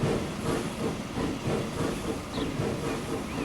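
Steam locomotive from a Transport Fever 2 mod, rolling with a steady, dense chuffing hiss and rail rumble that stays loud and even throughout, no voices present.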